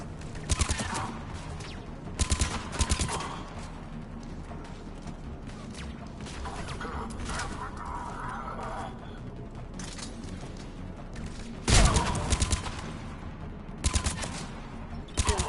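Sci-fi combat in Mass Effect 3 during a Reaper battle: repeated bursts of gunfire, some loud and close, a heavy blast near the end, over continuous battle noise.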